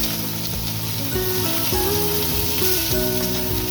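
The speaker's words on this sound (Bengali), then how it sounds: "কড়ার মধ্যে সর্ষের তেল দিয়ে দিয়েছি এবার এগুলো পরিষ্কার করে ছাড়িয়ে নিয়েছি এই তেলের মধ্যে দিয়ে ভেজে নেব" Cleaned winter mixed vegetables fry in hot mustard oil in a karahi wok, giving a loud, dense, continuous sizzle with a few faint shifts as pieces settle.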